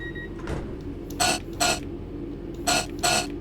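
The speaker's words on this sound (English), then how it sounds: "Is that the washing machine you can hear going like flappers?" A washing machine runs nearby, giving loud, rhythmic flapping or clattering bursts in spaced pairs over a low mechanical hum.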